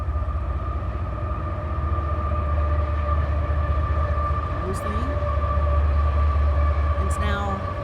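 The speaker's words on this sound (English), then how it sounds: "Sounds like a train." A CSX train passes near the Fredericksburg, Virginia battlefield, heard from inside a moving car as a steady droning tone over road rumble, with people talking throughout.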